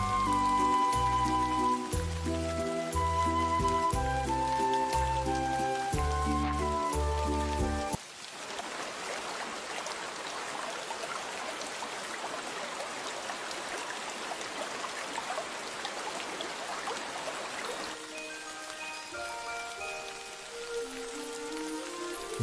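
Heavy rain pours in a dense, steady hiss of falling water, continuous through the middle stretch and partly masked by tonal music at the start and end.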